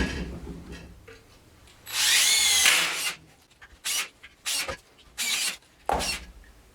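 A power drill drives screws through a faceplate into a wooden bowl blank, with one long whirring run followed by four short, loud bursts separated by pauses, close by.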